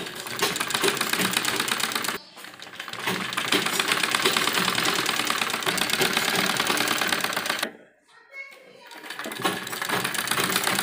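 Sewing machine stitching the edge of a toddler's baby dress, a steady mechanical whir running almost continuously with two brief pauses, close and fairly loud.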